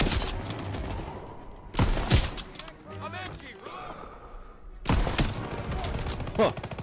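Video game gunfire from Call of Duty: WW2 during the Operation Cobra mission: loud, dense volleys of rapid shots and impacts, a quieter stretch midway with a brief voice or effect, then heavy bursts again near the end.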